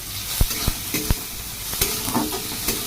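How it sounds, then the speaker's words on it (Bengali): Onions sizzle steadily in hot oil while a spatula scrapes and taps the pan several times. "পেঁয়াজগুলো একটু ভাজা ভাজা হয়ে গেলে ওগুলো দিয়ে দেবো সব"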